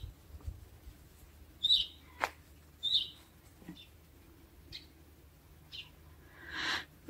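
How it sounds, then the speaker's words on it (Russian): Small bird in a willow tree gives sparse, quiet chirps and tweets at irregular intervals, faint and somewhat distant over a low outdoor hum, with a soft rushing burst near the end. "А где ж ты чирикаешь, сидишь, а?"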